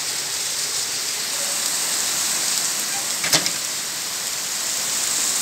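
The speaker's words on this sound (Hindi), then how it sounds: "तेज बारिश" Heavy rain pours down in a steady, loud, broadband wash during an evening downpour that is flooding a room. A brief thump lands midway through, and no one speaks.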